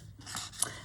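A single quick scissors snip trims a paper file folder down to size, one brief soft crunch up close in an otherwise quiet room.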